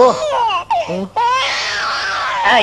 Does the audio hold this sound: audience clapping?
no